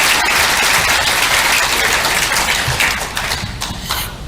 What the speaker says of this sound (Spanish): Y hay gente que lo aplaude y otra que lo vota.